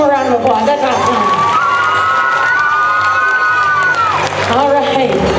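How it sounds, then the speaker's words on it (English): Audience at a school assembly trick roping show cheers and claps loudly, a dense crowd roar with children's shouts carrying throughout, while voices ring out above the noise. "So give them one more round of applause."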